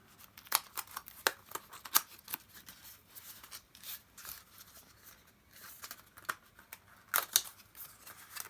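A parcel's packaging being opened and cut, with quiet sharp snips, rustles and crinkles scattered irregularly close to the microphone.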